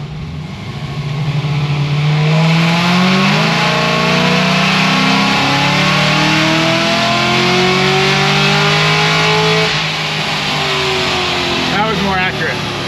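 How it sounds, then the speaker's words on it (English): An 850-horsepower Cadillac CTS-V engine revs on a dyno pull, its loud, sustained roar climbing steadily in pitch for about ten seconds before letting off, then a brief wind-down. "I'm gonna make another pull and see what it says. I'll also rev it out fully too"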